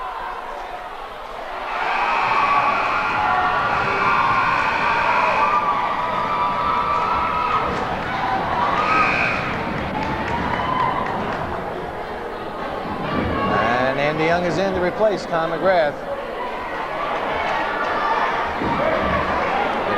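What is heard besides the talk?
crowd cheering at a high school basketball game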